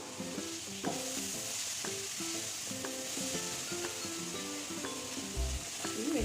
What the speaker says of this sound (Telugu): వెజిటేబుల్స్ అన్నీ బాగా ఫ్రై అయ్యాయి